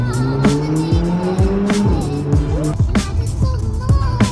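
An Alfa Romeo 4C sports car revs hard in Paris traffic, its engine note climbing and dropping through quick gear changes, loud and close from inside the cabin.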